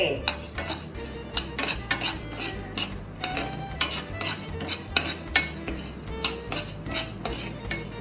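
Rice, fenugreek and cumin are dry-roasted in a metal pan, a spoon clattering and scraping against it in quick repeated strokes, close and fairly loud, with no talking.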